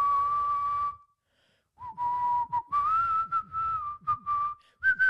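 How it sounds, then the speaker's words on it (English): Someone whistles a short melody nearby, with a pause after the opening note and a few quick breaks between phrases. "Oh, that's a great whistle, by the way."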